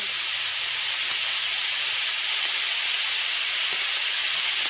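Chopped onion hitting a hot pan and sizzling in a loud, steady, bright hiss that carries on evenly throughout while cooking stuffed Doritos.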